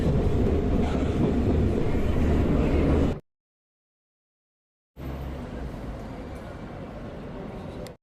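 Passenger train running in France, a loud steady rumble of rail travel that cuts out to silence midway, then resumes just as loud.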